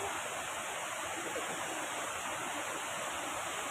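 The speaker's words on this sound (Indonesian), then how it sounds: "Kita juga bisa melihat air terjun kecil di situ." A small waterfall near a glamping campground in Bogor gives a steady, even rush of falling water, continuous and moderately distant, with no voices over it.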